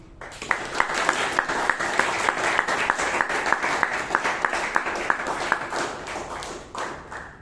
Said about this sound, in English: Let's give a huge round of applause to the evaluator.